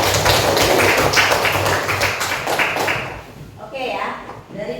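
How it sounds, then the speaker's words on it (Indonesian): A classroom of students claps together, a dense run of rapid hand claps for about three seconds that fades out, followed by a teacher speaking. "Tepuk tangan untuk Anjeli."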